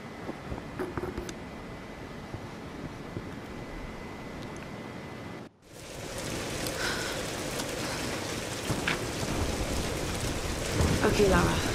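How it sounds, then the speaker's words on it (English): A storm in the Tomb Raider video game brings steady rain and rumbling thunder, with a brief drop out partway through before the downpour returns heavier and denser, continuing to the end. "We're getting closer to the storm."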